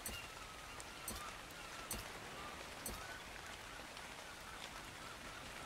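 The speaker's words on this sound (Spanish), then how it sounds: "Y encima está lloviendo" Steady rain in the video game Ark, a dense hiss of drops on surfaces with occasional louder splashes, continuous and fairly quiet.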